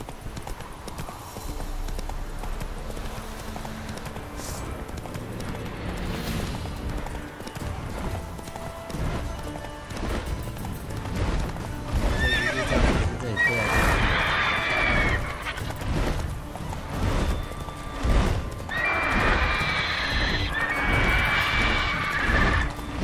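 The horse Roach in The Witcher 3 gallops with steady, rhythmic clip-clop hoofbeats and lets out whinnies, set against game ambience and effects.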